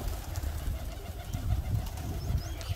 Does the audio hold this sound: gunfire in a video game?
no